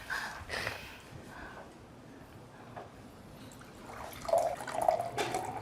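Water runs from a kitchen tap into a glass, a soft steady trickle that swells into louder splashing bursts near the end, with no voices over it.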